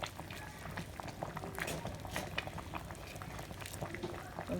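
Haitian soup joumou boiling in a pot, a continuous quiet bubbling and popping with small irregular bursts throughout, close and alone with no talk.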